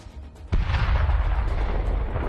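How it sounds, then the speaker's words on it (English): A tank gun fires during close tank combat between Ukrainian and Russian forces: after a quiet lead-in, one loud sudden boom gives way to a long, heavy rumbling roar that carries on to the end. "The Ukrainians are firing a final shot."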